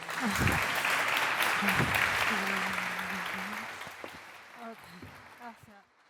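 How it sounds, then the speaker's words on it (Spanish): Audience applause swells loudly at first, then thins out and fades, with someone talking over the clapping throughout. "un fuerte aplauso para Nanda, por favor"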